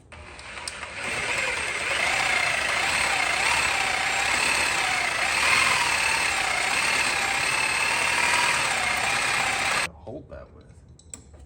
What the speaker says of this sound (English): my Sawzall.